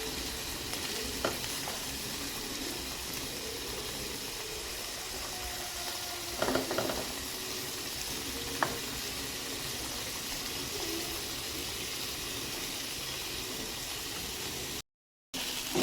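Food sizzling steadily as it fries in a pan while cooking a simple biryani, a continuous close hiss with a few brief clinks and taps from stirring, no talking.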